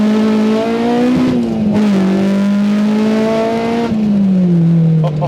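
A K20-swapped Honda EG Civic roars loudly from close by, its engine note holding steady, dipping and then climbing again across gear changes, with no voices over it.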